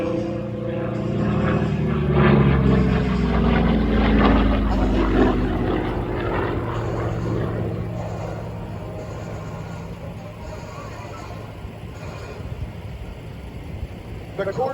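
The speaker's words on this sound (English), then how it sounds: "This is the first airplane, single-engine, piston-driven airplane in the United States military to exceed 400 miles" A Corsair single-engine piston airplane flies at an airshow at Willow Run Airport, its propeller drone swelling loud and close as it passes, then fading into a steady distant rumble over background crowd noise.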